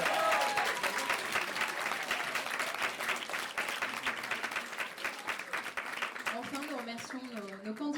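Audience applause fills a packed hall at an eloquence contest, dense steady clapping throughout with a voice or two faintly audible near the end.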